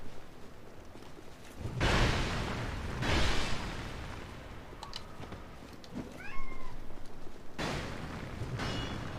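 A pet cat meows indoors, a few short rising and falling calls midway, set against booming bursts and rumbling effects from a Dark Souls II game.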